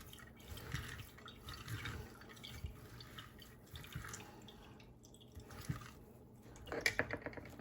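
Oranges are squeezed by hand for fresh juice, giving soft wet squishes and drips with liquid trickling, close and quiet, with a few sharper clinks near the end and no speech.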